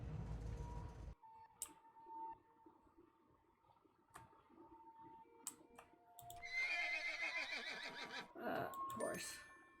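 A toy in the Hello Puppets: Midnight Show video game lets out a horse neigh, a loud whinny near the end with clip-clop hoofbeats, amid mechanical clicks and faint game tones.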